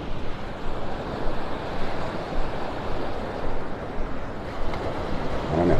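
Ocean waves wash onto a beach in North Naples, Florida, a steady rolling surf with swelling pulses, close and fairly loud, mixed with wind noise and no talking.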